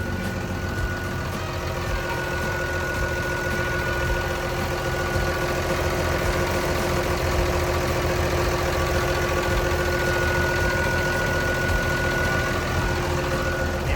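A Komatsu WA380-6 wheel loader's diesel engine idles steadily and evenly, a constant low rumble with a faint whine on top, heard close up throughout.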